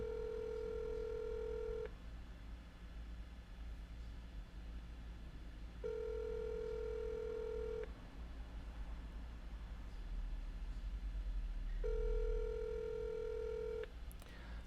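A call to a cell phone rings out: a steady ringback tone sounds three times in even cycles, each about two seconds long with roughly four seconds of quiet hum between.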